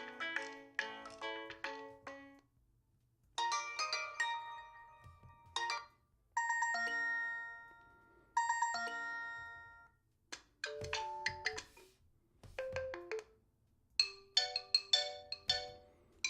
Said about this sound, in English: Let's play the T-Mobile jingle.